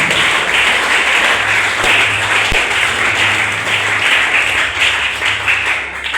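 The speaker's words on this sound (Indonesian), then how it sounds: "Tepukan untuk Pak Ismet." An audience in a school hall at a socialization event bursts into sustained applause, dense and loud clapping from many hands lasting several seconds, with a low hum in the background and no talk.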